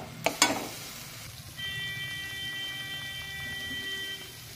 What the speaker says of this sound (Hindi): हम धीरे धीरे पकाएंगे और इसे हम चलाते रहेंगे।